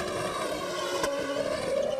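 At the 2000 Target Grand Prix of Chicago at Chicago Motor Speedway, an IndyCar engine holds a high, steady whine, heard at a distance through a broadcast feed as the car pulls away from a pit stop.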